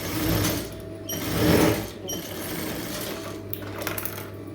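A sewing machine stitches canvas for a star-shaped neckline, running in a steady close whirring drone with brief pauses and speed changes as the fabric is turned.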